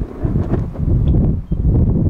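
Gusty wind buffets the microphone beside railroad tracks on a windy spring day near Port Newark, New Jersey, a loud low rumbling roar that swells and dips continuously with no voices.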